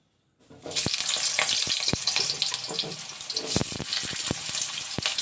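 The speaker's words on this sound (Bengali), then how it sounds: "তো তেলটা গরম হলে এর মধ্যে এবার আলুটা ভেজে নেব" Potatoes drop into hot mustard oil in a wok and fry with a sudden loud, dense sizzle, punctuated by sharp clicks and scrapes of stirring, close up and continuous after a brief silence, with no talk.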